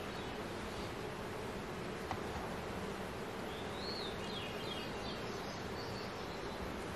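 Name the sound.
honeybees around an open beehive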